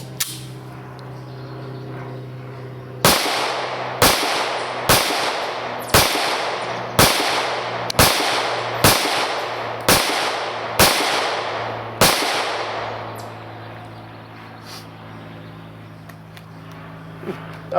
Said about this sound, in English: Let's get rolling and I'll shoot this gun and see how it feels.